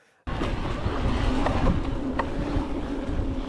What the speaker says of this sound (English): This is quite a noisy motor actually.